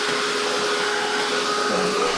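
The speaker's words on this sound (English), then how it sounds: "So I'm going to dry this." A hair dryer drying paint on a craft painting blows a steady, loud, continuous whoosh with an even motor hum throughout, close to the microphone and with no talking.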